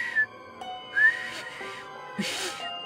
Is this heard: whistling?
yes